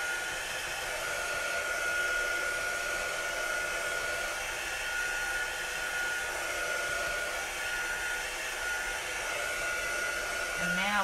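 A hair dryer blows steadily on chalked bone props for a spine prop build, a loud, even, unbroken whoosh that runs close up for the whole stretch.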